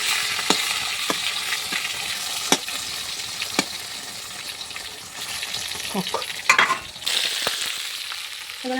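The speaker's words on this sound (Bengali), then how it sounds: "এখানে মাছ ভাজা বসিয়ে দিচ্ছি" Fish frying in a pan in a home kitchen, a steady close sizzle with occasional sharp clicks and scrapes of stirring, no talking.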